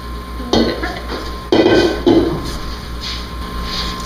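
A utensil stirs cookie dough in a bowl for thick Christmas cookies, with scraping and clinking knocks against the bowl over a steady background hum, close and loud with no talking.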